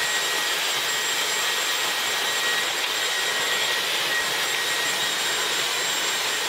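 Hair dryer blowing over hair, a steady, even whoosh of airflow at constant strength, close and alone throughout.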